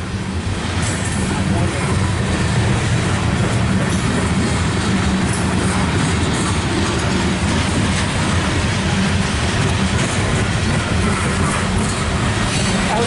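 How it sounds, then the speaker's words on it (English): A loaded CSX coal train rolls past on the tracks, a loud, steady roar of wheels and railcars filling the whole stretch with faint clattering throughout, while people talk underneath. "Yep, this is going to be the last train for today."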